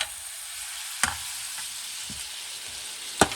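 Garlic frying in a pan for vegetable paella makes a continuous bright sizzle, with a few sharp clicks of a spoon or spatula stirring and tapping the pan.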